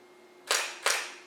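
A camera shutter fires with the lens removed, two sharp mechanical snaps about 0.4 seconds apart, close and crisp over a quiet low hum.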